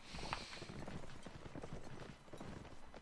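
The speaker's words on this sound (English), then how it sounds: "Horses in all directions." Horse hooves pound in a Napoleonic Wars line-battle video game, a dense, continuous clatter of galloping cavalry with scattered distant gunfire mixed into the busy battlefield noise.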